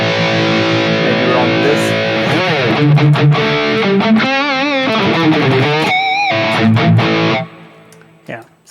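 Heavily distorted electric guitar played through a Mooer GE-1000 multi-effects unit with the high cut filter engaged, loud sustained chords and bending lead notes for about seven seconds before stopping, with brief speech at the end.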